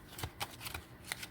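A Kipper card deck being shuffled in quick, soft riffles and taps, a short close burst of papery flicks with no talking.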